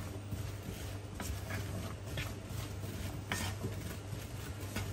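Vegetables frying in a pan for a pastie pie, a steady low sizzle with occasional utensil scrapes and stirring knocks, close and continuous, with no voice over it.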